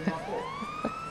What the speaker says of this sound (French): Oui, avec des sirènes, des malfaiteurs.